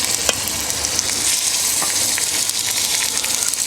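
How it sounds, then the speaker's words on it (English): Beef sears in hot oil in a Dutch oven on a Kamado Joe Classic 2 grill, giving a loud, steady, close sizzle with small crackles throughout and no voices. "That's what you want to hear, the sizzle, because that's what's going to give you a great colour."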